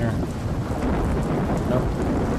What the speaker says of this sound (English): I meant to do something about this rain and thunder sound effect